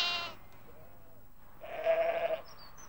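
A ewe in a field calling for her lamb, giving one loud bleat at the start and then a second longer, wavering bleat after a quiet pause, both close and clear.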